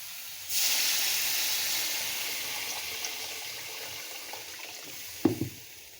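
Water poured into a hot pan of fried potatoes and spices for a fish and potato curry, setting off a loud, sustained steaming hiss that slowly fades, with a few utensil knocks near the end.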